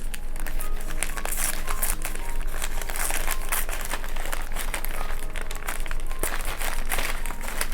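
A piece of paper torn by hand, turned clockwise as it rips toward the body, giving steady crinkling and tearing for several seconds at close range with no talking.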